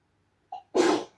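A woman sneezes once, a short inhaled catch followed by a loud, breathy burst, close and alone in a quiet room.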